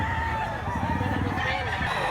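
A big 3.5-kilo rooster at a chicken selling spot in Mantalungon, Cebu crows once, loud and near, amid steady background noise.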